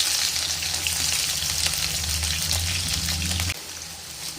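Onions frying in hot oil for a Tamil fish curry, a steady close sizzle with soft crackle that drops to a quieter hiss near the end.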